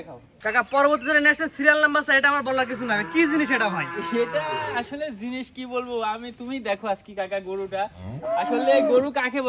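Several Holstein Friesian heifers moo loudly and repeatedly close by, long drawn-out bellows overlapping one another, with people talking in the background.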